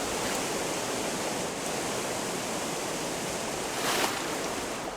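Steady broadband rush of a waterfall in the video game Gothic 1 Remake, a constant full wash of falling water that stays even and close throughout with no voices.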